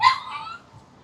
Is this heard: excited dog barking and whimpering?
yes